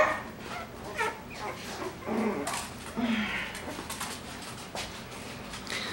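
Coton de Tulear puppies and their mother dog whimpering and yipping close by, a series of short high whines and squeaks with soft rustling between them.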